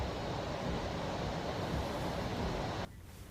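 Monsoon waterfalls rushing after heavy rain in Dang, a steady dense roar of falling water that cuts off abruptly near the end.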